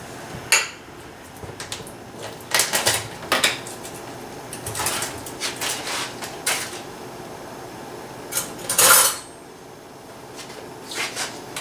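Cornbread batter of cream-corn style being mixed in a bowl, with scattered clinks and scrapes of a utensil against the dish, irregular and fairly close, with no talk.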